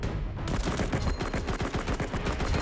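Rapid gunfire in the mobile shooter game Cover Fire: dense bursts of automatic shots crackle continuously and loudly throughout, with no talking.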